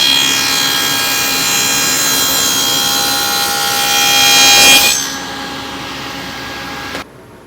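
A power saw runs a test cut through plywood in a workshop, a loud, steady whine that climbs slightly as the blade bites, then winds down and stops abruptly after about seven seconds.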